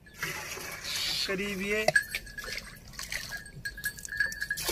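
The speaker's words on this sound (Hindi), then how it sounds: "और अब इसमें हम पानी डाल रहे हैं।" Water poured into a 10-litre sprayer tank, a gurgling, splashing trickle with a rising fill tone, while someone speaks briefly.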